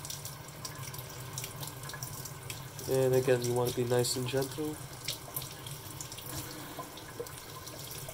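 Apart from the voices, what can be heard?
rinsing clay pebbles under running tap water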